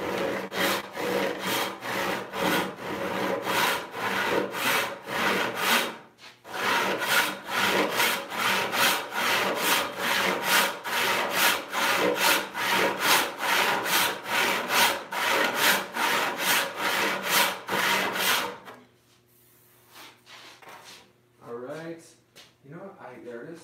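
Wide walnut board, about eight inches, being resawn by hand with a saw: loud, close, steady rhythmic strokes for most of the clip with a brief pause, then the sawing stops and quieter handling noises follow.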